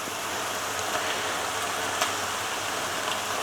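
Chopped tomatoes poured into browned mince in a pan, a steady close sizzle and wet hiss that holds evenly throughout with a small splat partway, no talking.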